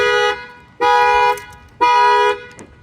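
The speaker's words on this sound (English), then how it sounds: "You're gonna see that the factory alarm is gonna fire off." An Infiniti Q60's factory car alarm blares in loud, repeated tonal honks, about a second each, with short gaps between, close by.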